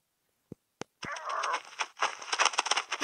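Video-game chickens cluck in a busy run of short clucks and squawks after two sharp opening clicks, close and alone with no talk.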